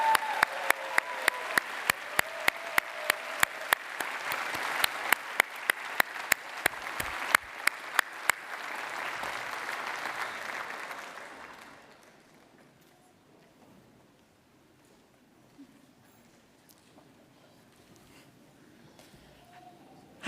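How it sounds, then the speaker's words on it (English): An audience at a Central Saint Martins graduation ceremony claps loudly with dense, sustained applause that sharp individual claps cut through. The clapping then thins out and fades to near quiet about halfway through. "Perhaps we should give another round of applause."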